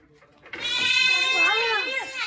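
A goat bleats loudly and close by, one long wavering call lasting about two seconds, with faint background sounds before it and no other animals clearly audible.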